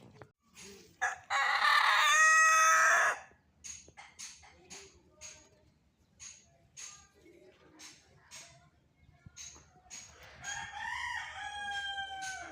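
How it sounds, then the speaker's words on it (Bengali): A pure white Rawa rooster gives one loud, close crow lasting about a second and a half, then clucks and rustles in short bursts before more strained calls rise near the end. "এটা সাদা রাওয়া দেখেন কত সুন্দর সাদা রাওয়া"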